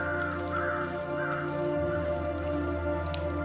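Crows caw a few times in the survival game The Long Dark, fairly loud over a steady low droning ambience, with no speech.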